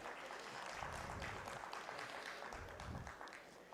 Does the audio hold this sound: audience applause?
yes